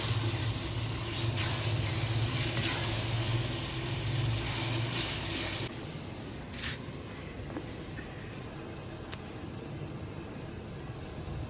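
Sliced onions hit a pan of roasted whole garam masala for Lahori chanay and fry with a loud, dense hiss. After a few seconds it settles into a softer, steady sizzle with occasional light pops.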